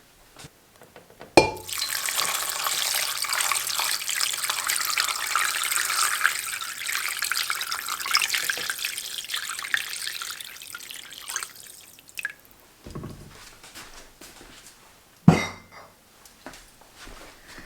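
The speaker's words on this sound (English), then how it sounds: "And I'm just going to put it in the middle, and then I'm going to fill with water." Water runs into a pot holding beans and a ham bone, a steady splashing pour for about ten seconds, followed by a few sharp clinks and bumps of the pot and utensils.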